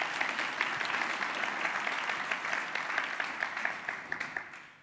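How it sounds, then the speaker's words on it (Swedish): A lecture audience in Sweden gives sustained applause, many hands clapping in a dense, even patter that holds steady and then fades slightly at the end. "En applåd."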